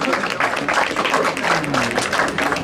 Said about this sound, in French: Vous pouvez applaudir parce que c'est extrêmement difficile.